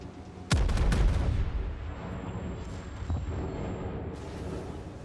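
Naval gunfire from the battleship Fuso in World of Warships: one heavy, loud broadside blast with a long rumbling decay, followed by a softer distant boom, with no talk.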